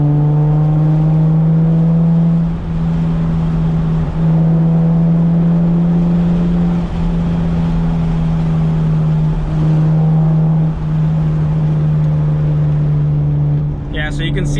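A manual-swapped Toyota Supra engine drones steadily and loudly while driving with the windows down, its low steady tone rising and dipping through gear changes across the whole stretch.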